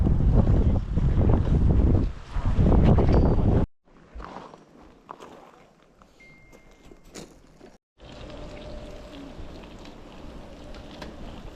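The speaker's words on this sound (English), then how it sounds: "it's still raining pretty good" Steady heavy rain hisses outdoors on a road trip through Jackson, with wind buffeting the microphone, loud at first, then quieter broadband patter after abrupt cuts.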